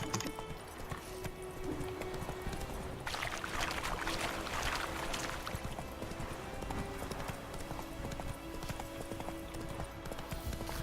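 Horse hooves clip-clop steadily in The Witcher 3, a continuous rhythmic trot heard close with a brief swell of rushing noise partway through and faint game ambience behind.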